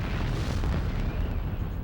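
A messenger rocket blows up in the video game Starshot: Space Circus Fever, a dense, sustained rumbling blast that stays loud and steady for about two seconds without a break.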